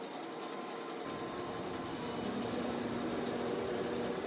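An Intelliquilter longarm quilting machine stitching in the ditch, a steady close mechanical whirring hum that grows slightly fuller after the first second and runs on without pause.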